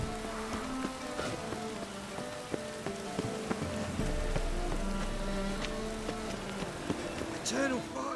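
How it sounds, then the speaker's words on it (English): Rain falls in the video game The Witcher 3 as a continuous soft patter. Game sounds and faint voices mix in over it. "Looks like rain."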